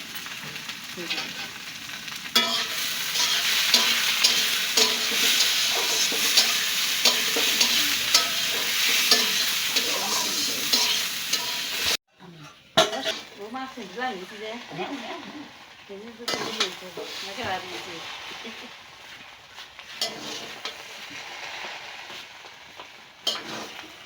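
Puffed rice frying in a pan with dal added, giving a dense continuous sizzle with stirring for about half the time, then a brief drop and a quieter, more uneven crackle with scraping and faint voices.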